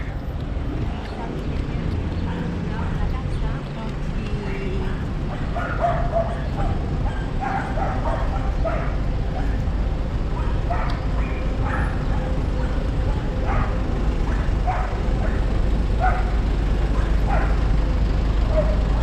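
Several dogs bark and yip at a city dog park in Buenos Aires, the sharp calls scattered through the clip at a moderate distance over steady outdoor traffic and crowd noise, with people talking nearby.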